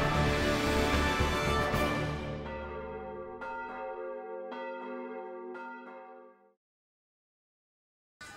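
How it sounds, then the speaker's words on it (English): A church bell rung at a Mexican Independence celebration recreating the Cry of Dolores: a loud initial peal decays, then several more clear strikes ring out and fade to silence, with no voices. "ringing the church bell"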